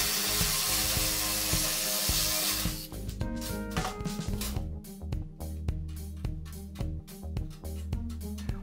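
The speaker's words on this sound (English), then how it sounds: "then I do the rough cutting with an electric shear, and the final trimming with hand shears" An electric shear cutting material for a bomber-style seat side, with a steady rasping hiss that breaks into rapid rhythmic chopping bursts, close and fairly quiet, with no voices.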